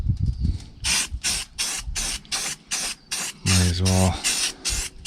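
A spray can gives repeated short, sharp bursts of paint over a cleaned area of a tri-axle Peterbilt truck frame where the old tag axle was removed. The bursts are close and rhythmic, with brief speech between them.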